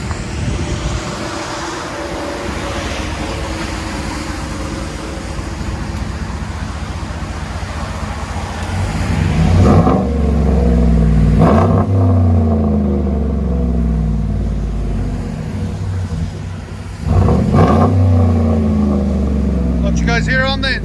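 A 2014 Chevy Silverado 5.3L with dual straight-pipe exhaust rumbles loudly at idle, then revs up sharply twice with deep, throaty bursts, heard close by.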